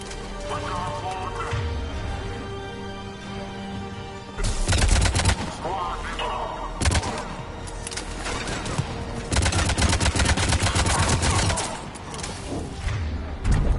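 Bursts of gunfire during a heavy attack in Mass Effect 3, loud volleys arriving in clusters over a dense, busy mix of battle noise, with a voice briefly audible.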